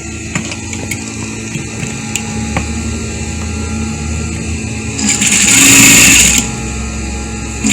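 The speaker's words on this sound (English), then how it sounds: "I want to do the stitching at the back." A sewing machine stitching the back seam of an adult peplum dress, running in one loud, steady burst of about a second and a half, preceded by quieter handling clicks and background hum.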